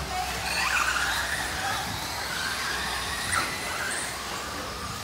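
A Traxxas Slash 4x4 RC truck runs at full throttle, its high-pitched electric motor whine and tire noise holding steadily for several seconds in an outdoor setting.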